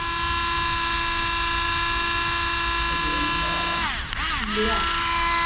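A cordless screwdriver runs with a steady, loud electric whine that holds for several seconds. Near the end the pitch dips and rises again briefly as the motor takes load.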